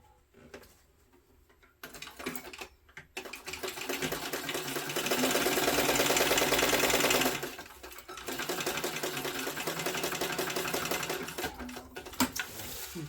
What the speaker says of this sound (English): Sew that on at 1/4 inch.